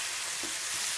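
Tandoori pomfret fish fries on a nonstick tawa, giving a steady, close, bright sizzle with no talking.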